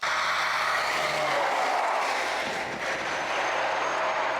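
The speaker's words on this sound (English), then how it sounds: "there's a truck coming" A truck passes on a flat road near a lakeside camp, a loud, steady broadband roar of tires and engine close by that swells and fades slightly over a few seconds, with no talk.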